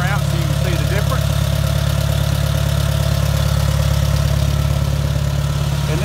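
A tractor with its original 12-volt generator setup idles steadily with a deep, even rumble, loud and close, running unchanged throughout without any revving.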